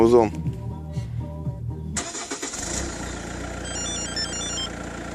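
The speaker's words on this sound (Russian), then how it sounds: "Машина завелась." A car starts by remote autostart: a few tonal electronic beeps, then the engine cranks and catches at about two seconds and settles into a steady, close idle.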